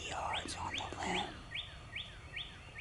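Wild birds chirp on a spring morning in Missouri turkey country, a series of quick rising tweets repeated at a steady pace, moderately distant over soft outdoor background noise.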